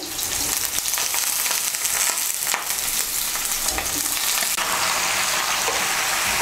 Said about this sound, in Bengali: লাউটাকে ভালো করে মিশিয়ে নেব তেলের সঙ্গে।